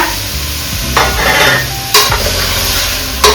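Chickpeas and radish fry in a pan, a continuous hot sizzle broken by three sharp scraping stirs of a spoon against the metal, close and loud with no talking.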